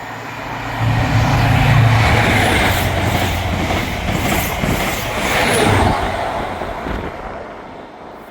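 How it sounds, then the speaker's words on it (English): A fast ScotRail Edinburgh Waverley to Aberdeen service passes through Broughty Ferry station without stopping, a loud sustained rumble and rush of wheels on rail building quickly, holding for several seconds and then fading away. "Passing through now is the 1358 Scotrail service from Edinburgh Waverley to Aberdeen."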